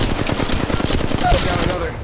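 Rapid automatic gunfire in the mobile video game Apex Legends Mobile, a dense burst of quick shots with clattering impacts throughout, loud and close.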